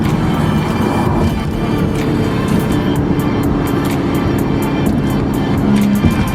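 An Audi S4 accelerates hard while driving, its engine note droning loud and steady from inside the car with rising pitch and broadband road and wind rumble throughout.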